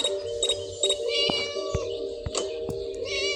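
A cat meows repeatedly in the Scary Teacher video game, several short cries over steady game background music and chimes, no voice present.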